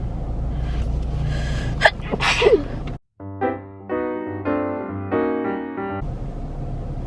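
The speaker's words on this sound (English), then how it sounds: "I have to sneeze." A single loud, close sneeze preceded by a sharp intake of breath, followed by a quiet gap and then tonal music.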